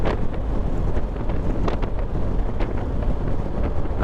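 Heavy wind rushes and buffets steadily around a rider on a BMW R 1250 GS motorcycle, loud and continuous with low rumbling gusts and no voices.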